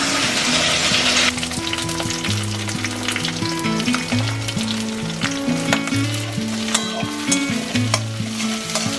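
Onion and capsicum fry in a pan with a loud, continuous sizzle and crackle, plus occasional stirring scrapes, while background music plays underneath.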